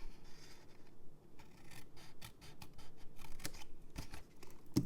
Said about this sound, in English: We're going to completely cut away this section.